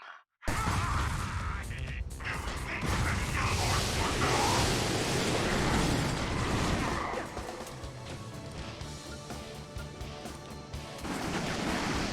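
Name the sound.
Groover Bomb Glove explosion in video game Ratchet and Clank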